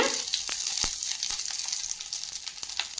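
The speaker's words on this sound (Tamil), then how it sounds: "கடுகு பொரிஞ்சோன்னா கருவேப்பிலை ஆட் பண்ணிக்கோங்க." Mustard seeds spluttering with curry leaves frying in hot oil for a drumstick-leaf chutney, a bright continuous sizzle dotted with sharp pops and crackles, close and steady.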